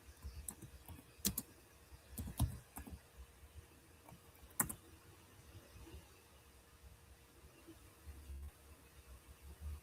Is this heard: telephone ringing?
no